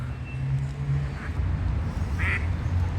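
Ducks quacking on a lake in Dyukovsky Park in Odesa, a few short nasal calls at middle distance over steady outdoor rumble and background noise.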